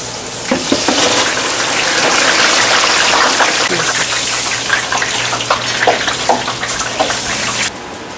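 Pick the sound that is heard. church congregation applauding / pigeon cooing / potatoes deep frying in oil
potatoes deep frying in oil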